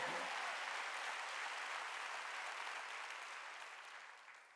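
A congregation claps at a Korean church's Wednesday worship service, a soft, distant wash of applause that gradually fades toward the end.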